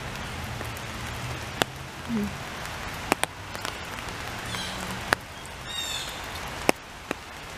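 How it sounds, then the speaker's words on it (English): Gentle rain patters steadily in a summer cottage garden, with a few sharp drips or taps and a faint bird chirp now and then. "here I am outside in the rain"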